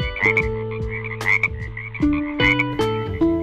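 Repeated frog-like croaks come in quick bursts of stacked tonal notes, close and clear, fitting a person mimicking a toad during a hopping exercise for children, with no speech between the calls.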